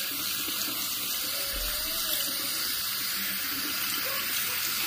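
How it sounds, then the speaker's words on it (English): Tap water runs steadily into a kitchen sink while spaghetti noodles are rinsed, a continuous, close, even hiss of flowing water with no voices. "Okay, here's some noodles. Now, I'm going to rinse it."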